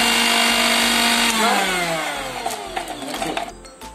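Electric mixer grinder blending spice masala with lemon juice for a chicken marinade, a loud motor whine that rises and falls in pitch, then trails off as it slows near the end.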